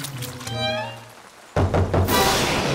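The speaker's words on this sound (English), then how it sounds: "is this a good idea to be out here in the rain?" A cartoon storm starts with a tonal, musical passage that fades, then a loud, close burst of rain and thunks cuts in and keeps up a dense, noisy roar to the end.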